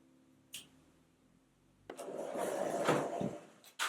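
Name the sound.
drawer with CNC machine pulled out or pushed in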